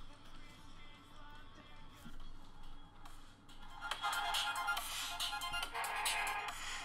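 Ringtone melody from a Sony Xperia P smartphone loudspeaker, starting soft and swelling louder midway through, bright and somewhat tinny, with no talking over it.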